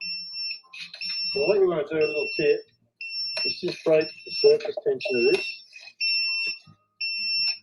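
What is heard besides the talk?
Grainfather brewing system alarm signalling 100 degrees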